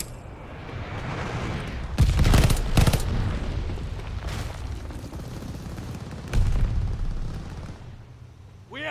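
Glide bomb strike in Call of Duty Vanguard, two heavy booming blasts close together followed by a later, softer impact, over a constant rumble of distant gunfire and battle noise.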